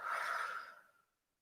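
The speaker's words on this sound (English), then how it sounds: "Another inhale. And exhale." A single deep, breathy exhale during a Pilates stretch, soft and close, fading out smoothly over about a second into silence.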